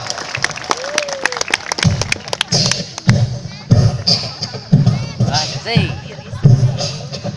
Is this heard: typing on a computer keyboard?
no